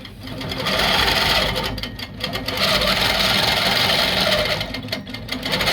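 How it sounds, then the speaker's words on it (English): A computerized quilting sewing machine stitches out a leaf-pattern design with a fast, continuous mechanical whirr. It eases briefly around the two-second mark and again near the end, with no voices over it. "So I'm just going to let this stitch out."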